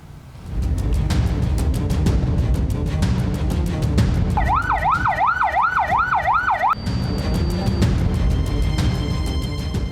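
A wailing ambulance siren sweeps up and down for a couple of seconds mid-clip amid dense, loud traffic noise and engine rumble, with a horn-like tone following, in a hours-long traffic jam on a road toward Tanjung Priok port in North Jakarta.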